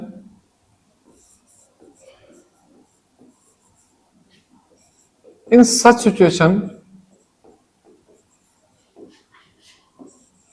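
A teacher writes class notes, with faint, intermittent scratchy strokes across a quiet stretch, briefly interrupted in the middle by a loud spoken phrase.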